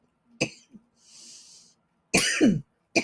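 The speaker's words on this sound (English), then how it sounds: "You're going to make me cough." Several sharp coughs break out close by, with a breathy exhale between them and a final cough at the end.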